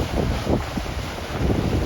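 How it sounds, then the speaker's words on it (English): Strong wind buffets the microphone aboard a Mississippi River ferry crossing toward Plaquemine in South Louisiana, a loud continuous low rumble with gusty swells and no speech. "Kind of windy."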